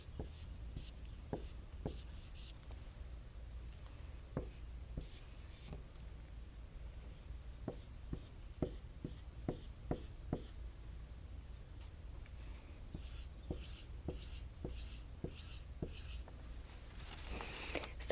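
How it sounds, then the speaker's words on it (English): Soft, dry scratching of a pencil drawing place value blocks (squares, tens rods and ones) on a math worksheet, a quiet run of short strokes and taps spaced irregularly. "I'm going to draw the place value blocks,"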